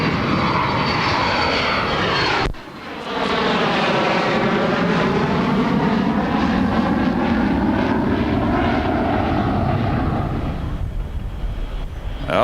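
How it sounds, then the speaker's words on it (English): A Delta passenger jet lands at Los Angeles International Airport, its engines a loud, close, sustained roar with a sweeping pitch shift as it passes, after a brief dip near the start, fading slightly at the end. "Here goes a Delta plane, and we'll get a shot of that."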